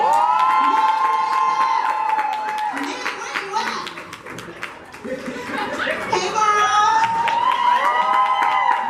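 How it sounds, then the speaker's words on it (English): A crowd at a brunch event claps and cheers loudly and steadily, with whoops and shouts rising over the applause, dipping briefly midway before swelling again. "Let's give a round of applause for Neoma Okori."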